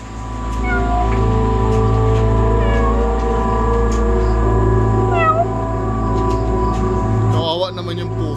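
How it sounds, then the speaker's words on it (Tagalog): A cat meows several times in short, rising and falling cries spaced a few seconds apart over a constant mechanical hum, ending with a louder, more strained call. "Kawawa naman yung pusa."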